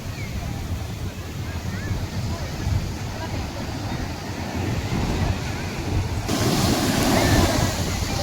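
Ocean surf breaking on a beach where a small child is visiting the sea for the first time: a continuous wash of waves and wind, steady at first, then surging louder and brighter toward the end.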